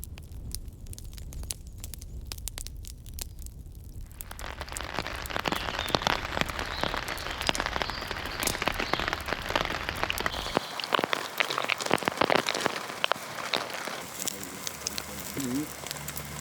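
Steady rain patters on a camping tarp strung over a hammock. After a quieter start it becomes a dense, close drumming that continues to the end.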